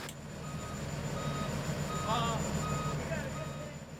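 Reversing backup beeps from a concrete truck being backed in at a slab pour, a steady repeating tone over engine rumble and site noise, fairly near and continuous.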